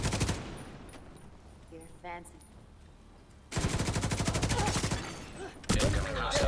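Rapid automatic gunfire in a shooter video game, a dense burst of rhythmic shots after a quieter stretch with a brief electronic beeping tone, then another close, loud volley cutting in near the end.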